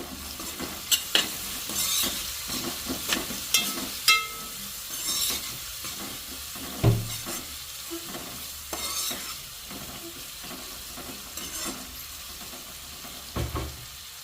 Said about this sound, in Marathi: कांदा आहे तो तेलावरती छान प्रकारे परतून घ्यायचा आहे